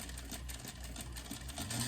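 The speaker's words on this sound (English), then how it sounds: "back stitching at the front of the seam, taking the curve slow" A sewing machine runs in a steady fast whirring rattle while back stitching a curved seam on a frog plush, close and continuous, with no talking.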